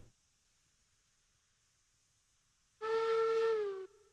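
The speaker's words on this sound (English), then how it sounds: "It's always got that little bit of a hesitation the first time you play a whistle sound." A steam locomotive whistle in the train game Railroads Online gives one loud, steady, harmonic blast lasting about a second after a long near-silent stretch, then drops to a faint lingering tone.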